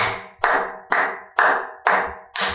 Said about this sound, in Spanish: Vamos entonces a aplaudir.